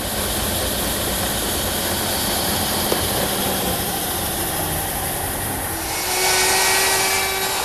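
Steady whirring drone of a disc sander as a wooden wheel is rotated against the sandpaper to true it into a circle, loud and continuous with a rising tonal shift near the end.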